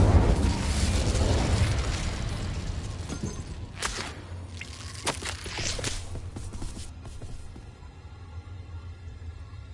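A fire spell cast in the video game Hogwarts Legacy: loud bursting, crackling blasts with sharp pops and whooshes, dense at first and then trailing off into quieter rumble.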